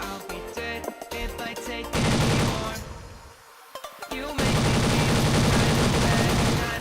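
A minigun in the mobile shooter Blood Strike fires in long, loud, rapid bursts, with a brief lull of scattered shots midway before the sustained roar resumes; no voices can be heard clearly over it.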